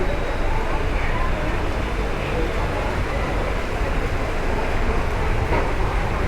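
A steady low rumble and rattle of a moving Salasar Superfast Express carriage between Jodhpur and Delhi, constant and enveloping, with no clear voices standing out.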